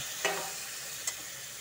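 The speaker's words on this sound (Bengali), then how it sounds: "এটার সাথে ভালো করে ভাজবো" Onion, garlic, chilli and tomato pastes fry in a pan, giving a steady soft sizzle with two brief scraping stirs of a spoon, heard up close.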